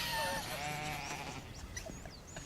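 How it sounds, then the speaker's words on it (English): Sheep bleating on a mountainside, a few wavering cries carrying from a distance over outdoor background noise, with faint bird chirps scattered through. "It's a sheep."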